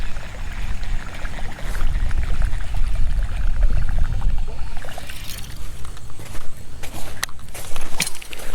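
A buzzbait lure plopping and churning across the water surface during topwater bass fishing, a steady close splashing gurgle that thins out into scattered splashes toward the end.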